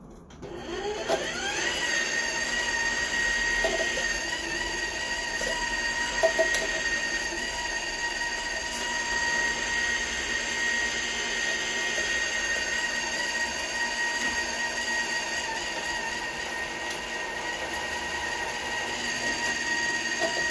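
A juicer grinds through thin-cut ginger slices with a steady, loud motorized whine and grinding hum that runs continuously and alone, with faint bits of crunching mixed in.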